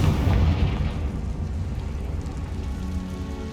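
A Confringo fire spell goes off in Hogwarts Legacy, a loud booming burst right at the start that trails into a steady rumbling, crackling roar with no voices.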